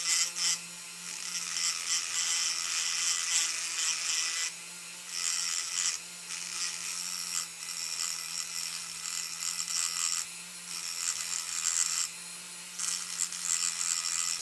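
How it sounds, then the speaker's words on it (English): Angle grinder cutting away metal from the lower valance diffusers under the front of a Cuda being fitted with a metal front spoiler, a steady harsh buzzing grind interrupted by several brief pauses, close and continuous. "Thought I'd grind off the majority of that just to kind of speed things along here."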